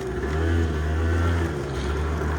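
A Honda Dio AF-34 scooter engine runs at a steady close idle, a loud continuous buzzing drone with a slight swell and no talk.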